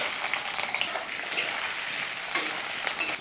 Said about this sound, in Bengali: তেল গরম হয়ে গেছে দিয়ে দিচ্ছি দু টুকরো তেজপাতা দিয়ে দিচ্ছি কুচিয়ে রাখা পেঁয়াজ